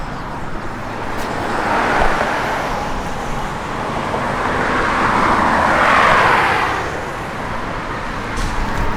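A 1955 Chevrolet Bel Air is driving along, its steady broad road and engine rumble swelling and easing gently, with no voices.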